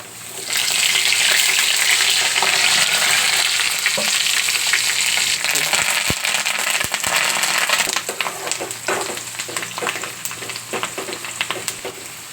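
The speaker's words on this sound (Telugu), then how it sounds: "ఆవాలు జీలకర్ర ఎండుమిరపకాయలు కోపి వేసుకున్నాను వేసేస్తున్నాను" Mustard seeds, cumin and dried red chillies sizzle loudly in hot oil, a dense, steady hiss that settles slightly toward the end, with a few sharp pops and crackles.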